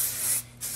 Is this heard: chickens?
no